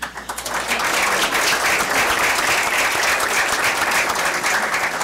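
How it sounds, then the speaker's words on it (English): A big round of applause at a school district board meeting, starting with a few scattered claps then swelling quickly into loud, sustained, dense clapping from a large crowd. "Big round of applause, Bulldog."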